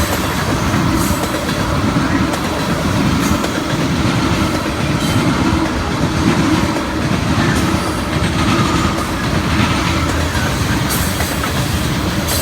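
An NS and CN freight train rumbles past in Fostoria, Ohio, a loud continuous roar of rolling railcars with steady wheel clatter and occasional faint squeals, sustained throughout with no talk.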